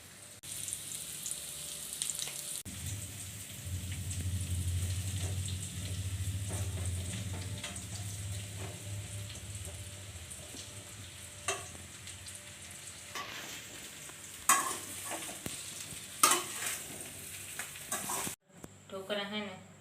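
Mustard-type seeds frying in hot oil as a tempering for bottle gourd dhokla, a steady close sizzle with stirring scrapes, ending in a brief burst of louder crackle and clatter near the end.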